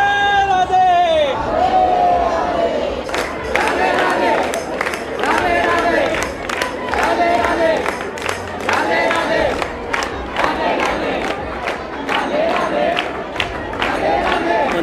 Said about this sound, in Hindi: चारों ओर ज़बरदस्त भीड़ है यहाँ पे इस वक्त।